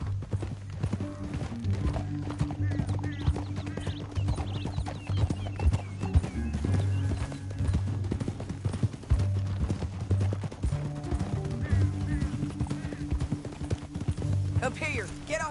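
Horses clip-clopping in a Western video game, steady hoof beats running throughout beneath in-game dialogue and a low music bed.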